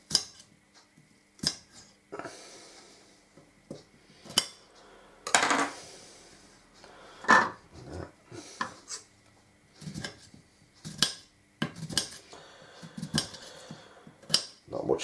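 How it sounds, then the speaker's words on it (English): A knife cuts peeled potatoes into small cubes at a wild camp in a slate mine, heard as irregular sharp taps on a board with scattered clinks, close and quiet, with pauses between bursts. "I'll just chop these potatoes up into small cubes."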